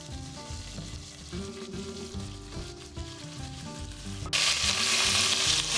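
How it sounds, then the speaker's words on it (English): Potatoes frying in a pan for a potato and tomato curry, a dense, steady sizzle up close, rising abruptly to a louder, brighter crackle near the end. "we need to fry the potatoes in this without them sticking"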